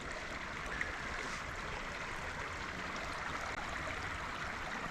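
Flowing stream water at a hiking trail crossing in Fort Ridgely State Park, Minnesota: a soft, continuous wash of rushing water, steady and fairly faint, heard alone without talking.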